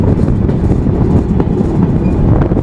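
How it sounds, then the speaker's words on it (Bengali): The Ruposhi Bangla Express rumbles loudly and continuously along the rails entering Narail on the Kolkata–Dhaka route, a heavy close-up roar with faint rhythmic clatter. "এই যে ট্রেন কিন্তু আমাদের ঢুকতেছে নড়াইল"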